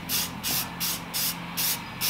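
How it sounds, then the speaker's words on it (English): A spray paint can hisses in short, repeated bursts while a wooden bat house is being painted, the close, loud spurts pulsing at a steady rhythm with brief pauses between. "So I'm just gonna spray paint"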